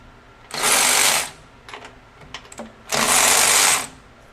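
DeWalt 12V XTREME cordless quarter-inch-drive ratchet (DCF503/DCF504) whirring in two loud, steady bursts about a second each, separated by a short pause with faint mechanical clicks.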